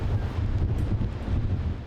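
Strong, steady hurricane-force storm wind in southwestern Britain roars and buffets the microphone, a low continuous rumble with gusty surges and no pauses.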